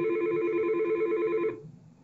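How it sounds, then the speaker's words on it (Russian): A Yealink T58V SIP desk phone rings with an incoming call, a steady electronic tone that plays for about one and a half seconds and then stops, heard alone and fairly close. "На Т58В поступает входящий вызов."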